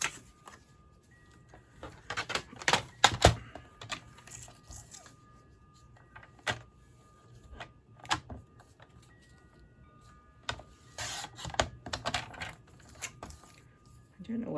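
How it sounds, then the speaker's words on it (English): A paper trimmer cuts cardstock for a Stampin' Up! bear-themed stargazing box, making intermittent sliding scrapes and sharp clicks in irregular bursts. The sounds are close and moderately loud against a quiet room. "we're going to try cutting it out with just the paper trimmer"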